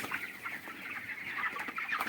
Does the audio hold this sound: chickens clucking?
yes